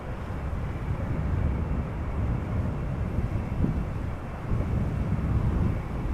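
Silkway West Boeing 747-400 freighter, 22 years old, at Amsterdam Schiphol: a steady, fairly loud low jet-engine rumble that holds throughout, with no talk over it.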